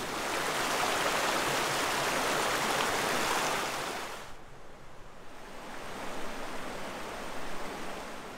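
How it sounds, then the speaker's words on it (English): Creek water flows loudly and continuously as a dense rushing wash, then drops for a moment and builds back to a steady flow. "So I'm going to talk up so you hear me over the water."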